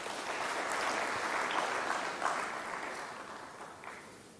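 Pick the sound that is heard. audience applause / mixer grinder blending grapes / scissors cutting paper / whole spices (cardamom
audience applause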